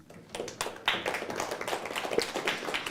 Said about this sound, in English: Applause for the announcements.